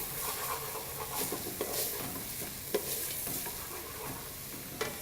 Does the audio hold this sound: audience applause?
no